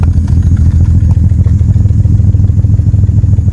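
A loud, close Ford Capri 2.8 Injection engine idles with an uneven, pulsing exhaust chuff, one side chuffing more than the other, the beats slightly irregular and rough throughout.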